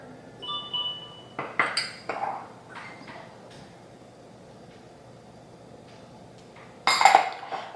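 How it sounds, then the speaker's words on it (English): A fork clinks against a bowl while peanut dressing is mixed, a few scattered close metallic taps and scrapes with quiet gaps and a louder clatter near the end. "I usually just use a fork and mix this up, because it mixes up really easy"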